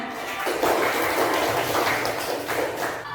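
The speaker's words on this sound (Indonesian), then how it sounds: "tepuk tangan buat semuanya" An audience in a teacher-training session applauding steadily for about three seconds after a song, a dense wash of clapping with no pauses.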